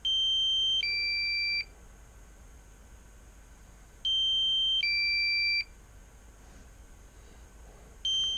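A drone's remote controller sounds a loud electronic alert during a low-battery return flight: a two-tone pattern of a steady high beep stepping to a second pitch, repeating in spaced bursts about every four seconds, with no talking.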